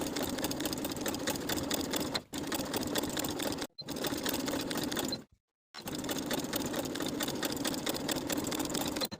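Sewing machine topstitching straight across a linen shirt yoke seam, a fast steady motor whir with rapid needle ticking in long bursts separated by short pauses, close and clear with no talk.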